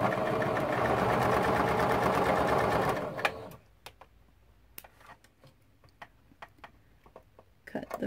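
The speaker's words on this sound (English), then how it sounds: "Sew the seam." A sewing machine runs a quilt block seam in a fast, steady mechanical whir for about three seconds, then stops, leaving scattered light clicks and handling taps.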